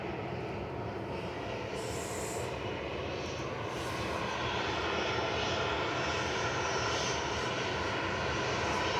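An Aer Lingus airliner arriving at Manchester Airport, heard as a steady jet engine roar that builds gradually in the middle distance, with no talking.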